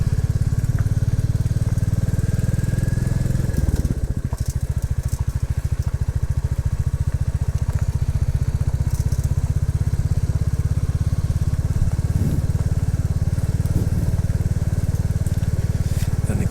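Royal Enfield Classic 350 motorcycle being ridden, its single-cylinder engine thumping steadily and loudly up close with wind rush, briefly dipping in pitch before pulling on again.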